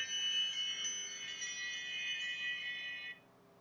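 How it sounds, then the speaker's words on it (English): A high, tonal electronic alarm rings continuously for about three seconds, then cuts off abruptly, leaving quiet background. "that was some other alarm"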